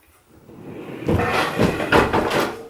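An IKEA pull-out vacuum storage unit slides along its rails, giving a rolling, scraping glide with a few knocks and clunks as it moves, close and fairly loud after a quiet start.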